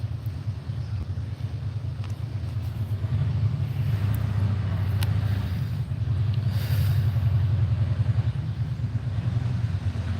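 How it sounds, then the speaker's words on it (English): A loud, steady engine rumble drones throughout, deep and throaty like a motorcycle, with wind buffeting the microphone. "This car sounds like a damn motorcycle."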